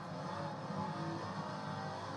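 Race cars circling a track in a racing video game, a faint steady engine whine from the pack ahead, continuous and low in the mix with no voices.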